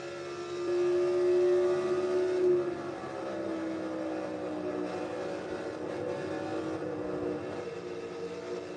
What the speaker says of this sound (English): the motor sounds like it's going to blow up